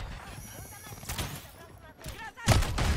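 Gunfire in the video game Call of Duty Modern Warfare 3, with a few sharp, loud bursts of shots separated by quieter stretches, while people talk between them.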